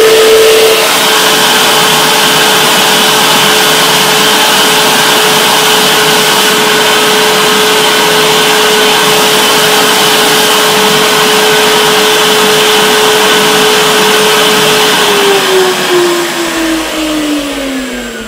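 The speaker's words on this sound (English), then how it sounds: "So now let's make the hovercraft hover through H." Hovercraft lift motor, switched on from an Android phone, whirs as a loud steady continuous drone for the whole stretch, then its pitch slides down near the end as the motor is slowed.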